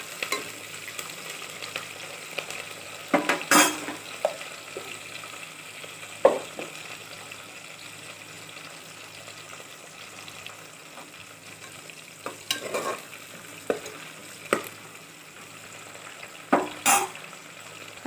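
Tempering seeds frying in hot oil with a steady low sizzle, stirred in a pan with scattered scraping strokes and occasional louder clatters of the spoon against the metal, with no voices.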